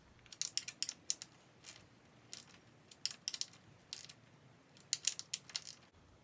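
Clamps being tightened evenly while installing LED strip blinker lights, heard as faint, close bursts of small metallic clicking and ratcheting in quick irregular clusters against a quiet background.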